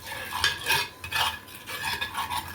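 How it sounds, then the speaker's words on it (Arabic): Ghee is spread around the inside of a clay cooking pot, producing close, soft scraping and smearing strokes in a loose rhythm of several short passes, with no voices. "هحط حته سمنه في البرام كده، اغلف بيها البرام كده"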